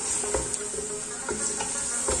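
Mutton pieces sizzle steadily in hot oil in a pot for shahi korma, with a constant close hiss broken by a few soft scraping stirs.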